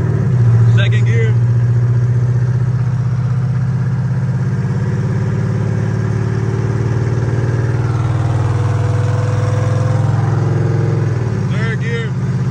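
A Chevrolet Monte Carlo SS engine pulls loudly and steadily from inside the car, its droning tone rising through the gears, with a voice speaking briefly over the engine near the start and again near the end.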